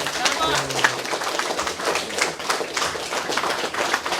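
A crowd claps together in steady, sustained applause, a dense rattling patter that carries on without a break.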